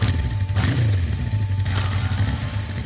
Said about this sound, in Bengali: সে তখন বাইক ঘোরাচ্ছে